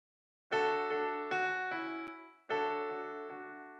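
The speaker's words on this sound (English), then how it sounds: "we're going to Addictive Keys using the Studio Grand preset," Grand piano from the Addictive Keys Studio Grand preset playing a short pattern of sustained chords, three struck clusters ringing out and decaying, clean and up front with no voices.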